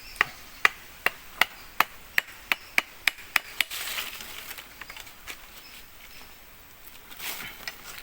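A bonsai plant's stem being cut, about ten sharp, evenly spaced snips or chops close up in quick succession, then a quieter rustling stretch with no voices.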